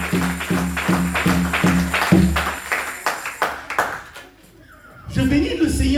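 A church congregation claps in steady rhythm during worship praising Jesus, roughly two claps a second over voices and music, before the clapping stops and talk carries on.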